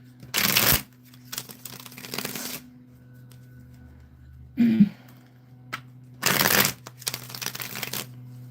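Several bursts of tarot card shuffling, riffles of brisk papery ruffling separated by quiet pauses, with a low steady hum underneath.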